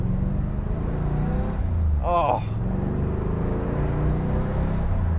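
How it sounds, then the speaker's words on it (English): The 427 engine of a 1966 Chevy Corvette coupe burbles in a low, steady rumble, continuous and close, with a brief exclamation from a person partway through. "This 427 certainly has a fantastic vintage burble to it."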